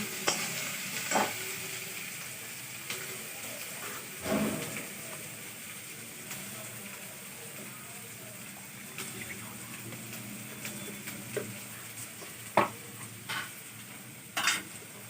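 Garlic fries in a pan with a steady low sizzle, broken by occasional scraping stirs and clinks. A faint voice murmurs underneath.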